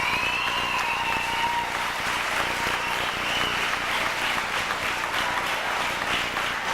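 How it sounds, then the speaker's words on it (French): Sustained audience applause at a 1994 barbecue coronation event in Saint-Anselme, a steady, dense wash of many hands clapping throughout, with no talk over it. "Une bonne main d'applaudissement pour la peine."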